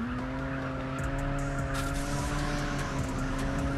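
In a mobile open-world driving game, a car drifts with tires squealing over a droning engine, the screech flaring in short bursts above a steady motor hum.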